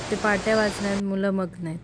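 A waterfall roars beside the Shivthar Ghal cave temple as a steady, broadband rushing wash that sits under a person talking throughout.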